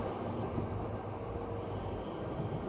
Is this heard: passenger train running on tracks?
yes